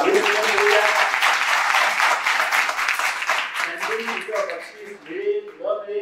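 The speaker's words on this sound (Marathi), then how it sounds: "त्या सगळ्यांचं आपण टाळ्या वाजवून आपण अभिनंदन करूया." Applause from a college hackathon audience fills the hall, a dense sustained clapping that thins and fades toward the end as scattered voices and talk emerge.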